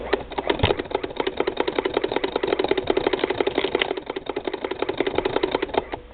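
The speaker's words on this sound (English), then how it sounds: "That is a normal Model 20 noise" A 1959 Model 20 hand-crank embroidery sewing machine running steadily, with a fast, even clatter of needle strokes close by. The rhythmic ticking continues for the whole stretch with no one speaking.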